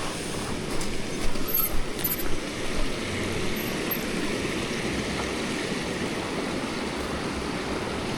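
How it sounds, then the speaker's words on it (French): An Alpine mountain stream rushes steadily and loudly up close, a dense broadband wash of flowing water with a few louder splashy surges early on. "Je voudrais juste voir si ce ruisseau se traverse."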